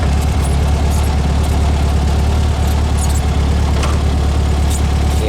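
A VW 2110 conversion car on the road, its engine giving a loud, steady low drone with constant vibration for the whole stretch and no voices.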